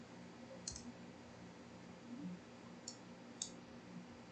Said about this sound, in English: Then you can just double click on the text and edit it